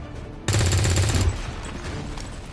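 A grenade in XCOM 2 goes off with one loud, sudden blast that rumbles for about a second, then fades into quieter background noise.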